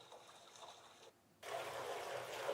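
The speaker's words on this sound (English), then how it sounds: "even like having the sound of water, which is coming out my laptop" Recorded trickling water plays from a laptop speaker, a soft steady flow that drops out briefly then returns louder and brighter as the sound is changed.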